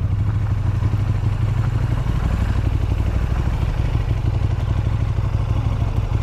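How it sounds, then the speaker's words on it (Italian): A KTM Super Duke motorcycle engine rumbles steadily while riding in the Cinque Terre, Italy, a loud continuous low drone with rattling mechanical texture and no pauses. "vedete la bellezza di viaggiare in moto?"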